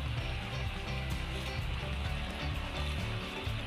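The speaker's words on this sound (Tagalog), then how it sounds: "Malakas po ang agos nito." A strong river current rushing past on a farm lot in Liliw, Laguna, making a dense, continuous wash of flowing water that stays steady and fairly close throughout, with no voices.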